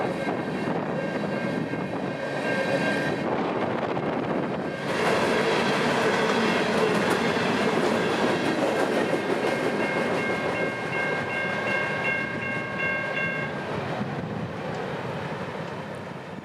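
Freight train 793 rolling through a level crossing with a malfunctioning gate in Lakeland, Florida: loud, continuous rumble and clatter of passing cars close by, with sustained tonal squeals and ringing layered on top, running the whole time without voices.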